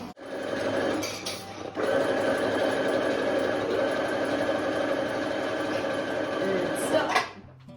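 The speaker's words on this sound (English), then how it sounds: "I started on the shoulder seams of the crop top and the side seams and inseams of the trousers for Rosie's bunny ensemble" A sewing machine stitches the shoulder seams of a crop top and the side seams and inseams of trousers, whirring steadily and loudly for several seconds after a brief start and stop.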